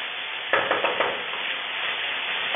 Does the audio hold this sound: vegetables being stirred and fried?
yes